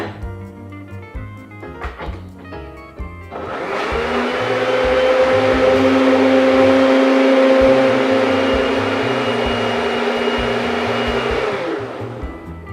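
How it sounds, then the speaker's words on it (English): Clatter of handling, then a blender starts blending pesto and runs with a steady, loud motor whir for about eight seconds before winding down. "And blend a little bit more."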